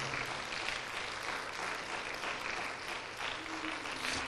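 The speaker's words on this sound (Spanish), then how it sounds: "todo el mundo, dele un fuerte aplauso al Señor" A church congregation claps for the Lord in a dense, sustained round of applause, steady and full throughout with no pause, some voices faint beneath it.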